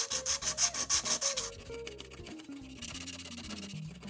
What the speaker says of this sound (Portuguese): agora vamos fazer com a lixa 400 aqui o arredondamento